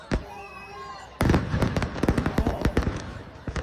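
Disneyland fireworks finale, a rapid barrage of sharp booms and crackling bursts beginning suddenly after a few scattered pops and whistles, loud and continuous, with crowd noise faintly beneath.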